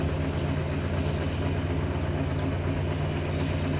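A farm tractor engine drones steadily while hauling a sugarcane trailer near a sugarcane harvester in the evening, a continuous low rumble with a constant hum, heard close and alone.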